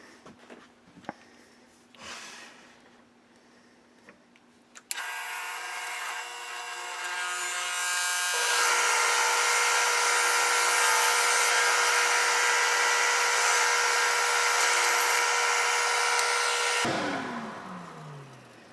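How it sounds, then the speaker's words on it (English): A lathe starts with a sharp onset, then a loud, steady machine whine as a 15/32 hole is drilled into a wooden dowel, rising in intensity and running continuously before winding down abruptly near the end. "I'm going to go ahead and drill our 15/32 hole"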